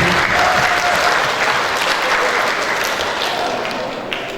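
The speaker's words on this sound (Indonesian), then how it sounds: "Kita berikan tepuk tangan kepada keduanya" A room full of people claps steadily in sustained applause at a school graduation ceremony, dense and even, tapering slightly toward the end.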